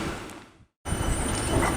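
South Western Railway Class 450 electric train passing through Weybridge station on the line toward London Waterloo, a loud close rumble and rattle that breaks off for a split second and then returns just as strong.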